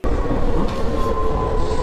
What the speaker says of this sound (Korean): 지하철 2호선 건대입구에서 7호선 어린이 대공원으로 갈아탈 때 오는 지하철 소리입니다